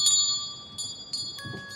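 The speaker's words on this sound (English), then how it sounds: "she started ringing her bell" Small hand bell rung by a woman during a blessing ritual at an altar, a few bright metallic strikes that ring on with sustained tones, heard fairly close over a low room murmur.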